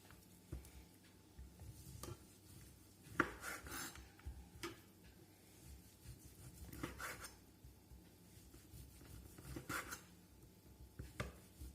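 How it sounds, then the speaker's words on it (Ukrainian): A knife cutting meat on a board in a home kitchen, giving quiet, irregular chopping taps and scraping with a few sharper knocks, close and faint, with no voices. "а тепер буду різати м'ясо"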